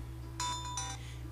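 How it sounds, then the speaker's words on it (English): A phone ringtone sounds twice in short, bright electronic bursts over a steady low hum, faint and in a quiet room with no talk. "that's my phone"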